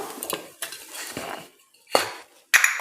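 Shallots and chopped garlic being stirred in a hot oiled wok, with a metal spatula scraping and clinking against the pan in uneven bursts, separated by short pauses, with faint sizzling underneath.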